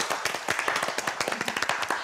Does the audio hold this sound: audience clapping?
yes